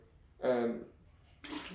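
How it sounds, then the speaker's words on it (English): Hot water runs through the group head of a black Breville Barista Express BES870 espresso machine, a brief hissing gush starting near the end right after a short stretch of voice. "I will run some hot water through the group head just to warm up the machine."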